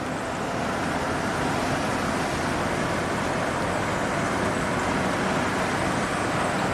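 A rare abandoned Audi turbo cruises along the road, its interior filled with a steady, dense roar of engine and road noise that holds level without any break.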